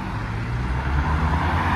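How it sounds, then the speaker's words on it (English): A BMW at a Japanese car meet in Reading, its engine giving a low, steady rumble that swells slightly, loud and continuous over the short span. "BMW giving it a little bit of something."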